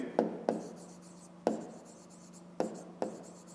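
A pen writes numbers on paper, five separate sharp taps each followed by a short faint scratching stroke, quiet and close, with no talk.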